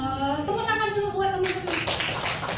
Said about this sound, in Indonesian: Tepuk tangan dulu buat teman-teman.